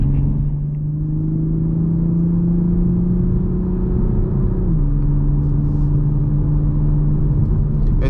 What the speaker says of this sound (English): you get the amazing exhaust